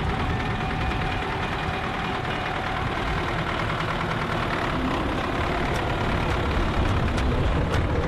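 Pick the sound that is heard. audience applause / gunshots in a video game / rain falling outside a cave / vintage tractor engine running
vintage tractor engine running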